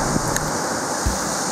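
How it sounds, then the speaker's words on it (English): Strong, cold wind blowing across the shore of Lac Manicouagan near Ile René-Levasseur, a steady rushing roar with faint wave-like wash and a couple of low buffeting thumps. "The wind is very strong."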